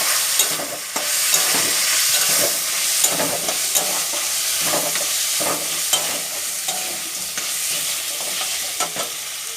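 Fish head frying in a spiced masala paste, a loud, steady sizzle and crackle close by with irregular stirring scrapes throughout, no voices.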